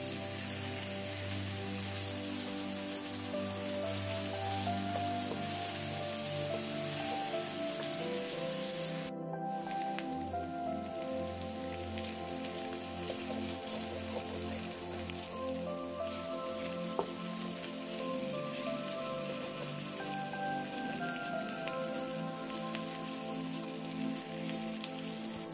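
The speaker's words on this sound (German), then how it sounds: "Ich habe die Hühnerkeulen dann rausgenommen und in der gleichen Pfanne Zwiebeln angeschmort." Onions braise in a frying pan still holding the fat from browned chicken legs, giving a steady, close sizzling hiss that runs throughout, with one brief dip about a third of the way in.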